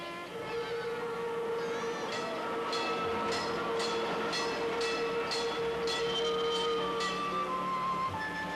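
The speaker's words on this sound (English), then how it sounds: "The trams are still running, but today they take you for an all too short journey into Kimberley's rough and exciting beginnings." A historic electric tram in Kimberley rumbles along its track with a steady drone, a sustained whining tone and a series of rhythmic clacks from the wheels, heard alone at moderate distance.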